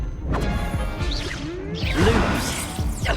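A Levioso levitation spell cast during a duel in the video game Hogwarts Legacy, a short magical whoosh with shimmering swirls and a soft impact, moderately loud with no talk.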